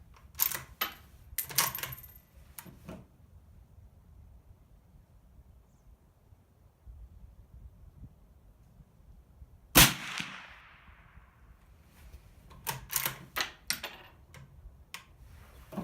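Several sharp, muffled 7.62 suppressed gunshots in two clusters, with a louder single crack midway and a quiet stretch between, heard at moderate distance.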